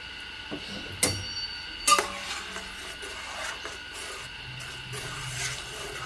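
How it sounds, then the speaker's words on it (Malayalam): Carrot dessert mixture being stirred in a pan, with a couple of sharp utensil clacks against the metal and soft scraping over a faint background hiss. "നമുക്കിതൊന്ന് നന്നായി ഇളക്കി ഒന്ന് വേവിച്ചെടുക്കാം"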